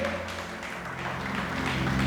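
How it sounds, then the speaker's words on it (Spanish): A church congregation applauds during a pastor's sermon, a short burst of steady, dense clapping over a low musical hum. "Dale ese aplauso grande al Rey"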